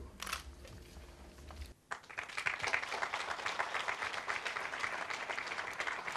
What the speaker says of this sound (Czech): Potlesk patří vám, pane Ludvíku Singerte, za váš život